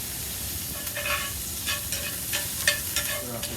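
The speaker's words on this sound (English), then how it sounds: "sausage is almost done cooking here" Sausage sizzling on a grill fired with bourbon barrel wood chunks, a steady close frying hiss with faint pops and small crackles throughout, no voice.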